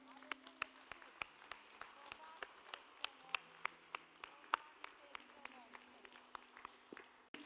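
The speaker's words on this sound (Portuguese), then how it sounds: "Uma salva de palmas para o nosso Deus." Congregation clapping during a Thursday church service, a steady rhythmic beat of sharp claps about three per second, fairly faint and distant, with a low hum and voices beneath.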